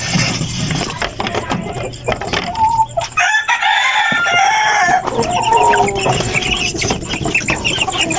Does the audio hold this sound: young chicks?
yes